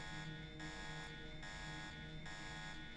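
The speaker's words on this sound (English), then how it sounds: "that certainly broke my attempts to not activate the alarm" An alarm blares in the video game Deus Ex, a loud, continuous buzzing tone pulsing in a steady repeating rhythm throughout.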